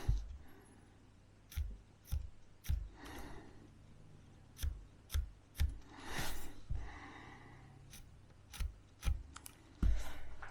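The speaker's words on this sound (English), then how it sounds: "I'm just going to mark these fret positions with a nice sharp pencil" A sharp pencil marks fret positions on a cigar box guitar neck, giving a series of quiet, crisp scratchy ticks and strokes at an irregular pace, with soft breathing between them.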